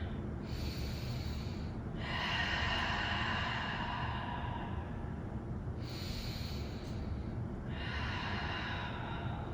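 Slow, deep breaths during a yoga stretch, long airy inhales and exhales alternating about every three seconds, close and soft, with no speech.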